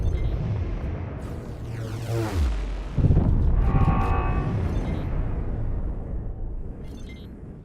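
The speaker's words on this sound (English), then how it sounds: "change the sound of the Terran main batteries" Terran main batteries firing in X4 Foundations give deep, booming blasts with descending, sweeping tones, a heavy impact near the three-second mark, then fading rumbling and scattered hits.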